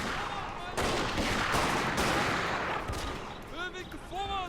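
Massed rifle volleys crack and roll together in a battle video game fought in a forest, a dense sustained burst of gunfire that fades into shouting voices near the end.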